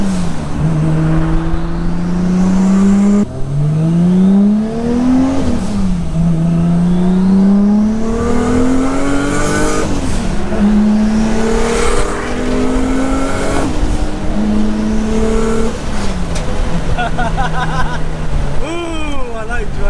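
A big-turbo Nissan Skyline R33 engine revs and shifts through gears repeatedly, rising and falling in pitch, loud and close, with a voice speaking over it at times.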